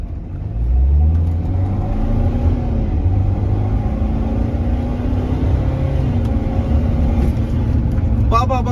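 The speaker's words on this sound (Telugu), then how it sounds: "స్పోర్ట్ ప్లస్ వేసి తొక్కగానే బండి ఎగురుతుంది చూడండి" A 2012 BMW X3 xDrive 20d accelerating hard in Sport Plus mode gives a loud, close engine drone that climbs in pitch, then holds a steady, heavy rumble.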